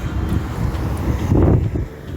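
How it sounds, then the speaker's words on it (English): Gusty hot wind blowing outdoors, buffeting the microphone with a steady low rumble that swells briefly midway. "where did all this wind came from? And it's hot wind too."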